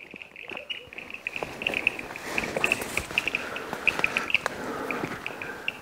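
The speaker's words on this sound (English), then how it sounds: "all the chirping you hear is from this pond here right next to my shop." Steady high chirping rises from a pond right next to a workshop, a rapid repeating chorus of small calls over faint background clatter and low noise, fairly close and continuous.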